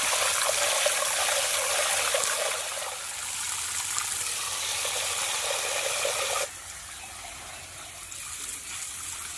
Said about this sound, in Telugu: కందిపప్పుని రెండు మూడు సార్లు శుభ్రంగా కట్టుకోవాలి